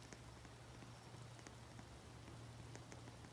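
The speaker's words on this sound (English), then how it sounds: "the rain physics in this game are not..." Rain falling in a video game café setting, a steady dense patter with scattered sharper drops, continuous and fairly faint with no talking.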